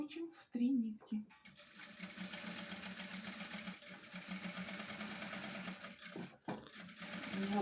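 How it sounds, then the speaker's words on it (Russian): A sewing machine runs steadily, stitching a three-thread seam with a continuous mechanical whir that sits close and fairly quiet, broken by a couple of short pauses. "Делаем строчку, какой вам надо ширины, и строчим в 3 нитки."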